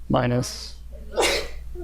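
A short, sharp sneeze bursts out near the start, followed by someone speaking briefly.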